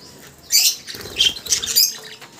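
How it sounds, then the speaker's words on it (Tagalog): Parakeets and lovebirds flap their wings inside an aviary, giving a few close, brief fluttering bursts with faint chirps and rustling, and no talking. "Ayan yung mga parakeets natin."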